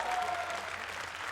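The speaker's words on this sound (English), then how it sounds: "Give him one more applause." Applause from the audience at the close of the COE 2023 1v1 final of a competitive strategy-game tournament, a steady dense wash of clapping that carries evenly through the clip.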